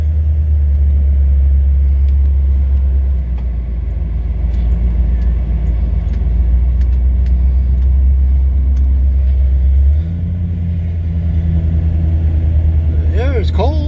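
A 1967 Cadillac engine idles after major engine work, a loud, steady low rumble close by that holds throughout, dipping in tone partway through.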